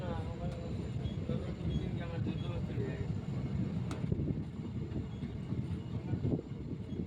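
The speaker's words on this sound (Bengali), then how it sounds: "আস্তে আস্তে করে লঙ্গাই থেকে ছেড়ে দিল ট্রেন, চলে যাচ্ছে মহিষাসনের উদ্দেশ্যে।" A passenger train pulls slowly away from Longai station, giving a steady rumbling roll with wind noise heard from on board, continuous and moderately loud throughout.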